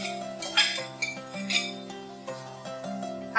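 Chicken keema with spices being stirred in a pan over a high flame, a spoon scraping and clinking against the metal in repeated strokes with several sharper knocks, close and fairly quiet over steady background music.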